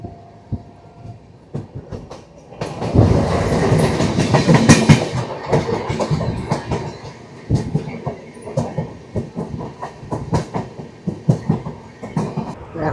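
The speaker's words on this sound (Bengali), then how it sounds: "আর ট্রেন ঢুকছে নিউ ফারাক্কা জাংশন" A train pulling into New Farakka Junction, its wheels clattering in a steady clickety-clack over the rails. The rumble builds to a loud, close peak, then continues as rhythmic knocks.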